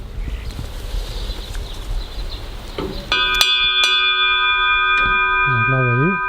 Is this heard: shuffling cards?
no